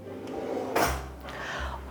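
A kitchen drawer in a Bengaluru home slides and settles with a soft, damped close, a single brief muffled thump and rustle in a quiet room.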